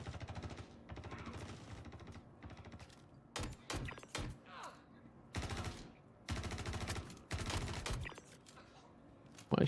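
Bursts of automatic gunfire crackle in Star Citizen, several rapid volleys separated by short pauses, sharp and loud against a quieter background.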